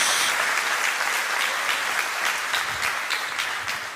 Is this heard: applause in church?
yes